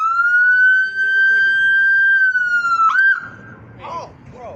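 A police motorcycle siren wails in a long, loud, steady tone that bends and cuts off, followed by quieter engine and background noise.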